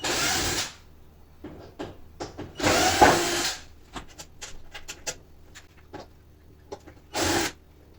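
A power screwdriver whirs in short bursts as screws are backed out of an Arçelik/Beko dishwasher door, interspersed with small clicks and plastic taps between the louder buzzing runs.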